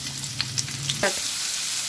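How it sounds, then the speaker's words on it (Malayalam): Sliced onions with a pinch of salt sauté in a hot pan for mutton curry, giving a steady, close sizzle broken by a few light stirring clicks, with no one speaking. "പകുതി ഞാൻ ഇതിനകത്തേക്ക് ഇടും വഴറ്റാൻ വേണ്ടിയിട്ട്"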